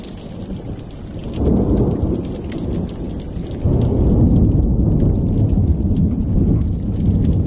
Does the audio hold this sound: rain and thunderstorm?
yes